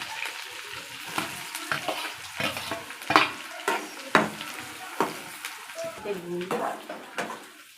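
Onion goes into hot oil with frying fenugreek, coriander and green and red chili, giving a crackling sizzle broken by repeated close spoon scrapes and stirs against the pan; a voice is faintly present.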